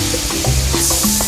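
Taro corms fry in oil together with fried shrimp, a close, steady sizzle with a few soft stirring clicks over a low hum, brief and continuous with no talk.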